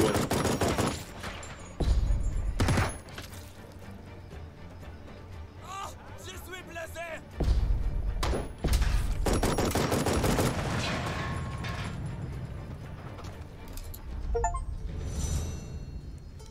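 Machine gun fire in the tactical video game Jagged Alliance 3 comes in loud, sharp bursts of rapid shots at several moments, separated by quieter stretches with a voice talking.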